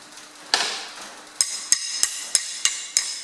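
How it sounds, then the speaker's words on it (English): A hammer spanner strikes a steering bolt on a John Deere 2030 tractor during tie rod end work: one metallic blow, a pause, then five sharp, evenly spaced ringing hits, close and loud. "With my hammer spanner."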